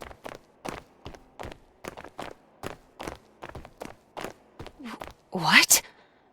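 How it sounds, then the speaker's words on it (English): Regular footsteps walking at a steady pace in a horror video game, about a dozen evenly spaced thuds, close and moderately loud, ending with a brief louder rustling burst. "It sounds like I'm walking a lot more than I should be."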